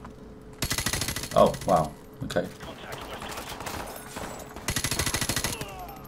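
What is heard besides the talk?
gunfire in video game Call of Duty Modern Warfare Remastered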